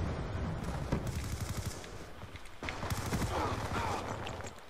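Rapid bursts of gunfire from the video game Black Ops 2 crackle in quick repeated volleys, with a brief pause in between, under the game's other sounds.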